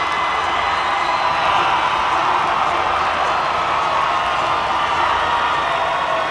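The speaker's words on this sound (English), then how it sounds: "Listen to that crowd here at the Dome." A packed basketball crowd at the Dome during a state Class B boys game, a steady loud roar of cheering and shouting that fills the space without letting up.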